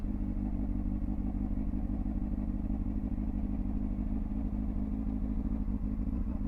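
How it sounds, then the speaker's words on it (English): Motorbike engine running steadily during low-speed riding manoeuvres, a constant, close, buzzing drone with an even pulsing rhythm and no change in loudness, with no talk over it. "You just want to keep looking at where you want the bike to go next."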